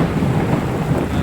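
Heavy rain pours down on farmland, a loud, dense and unbroken roar with a deep low rumble underneath, steady throughout with no voices.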